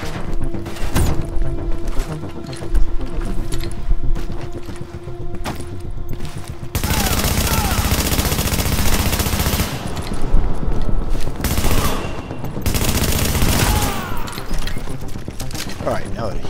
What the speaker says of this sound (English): So now I'm going to actually deploy a turret.